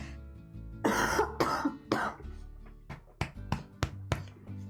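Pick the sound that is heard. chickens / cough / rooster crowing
cough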